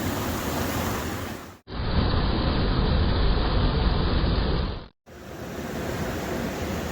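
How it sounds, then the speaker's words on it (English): Water rushing steadily through a creek at a gold prospect, a loud continuous broadband wash that drops out briefly twice, with no voices. "a bit more water flowing in there today"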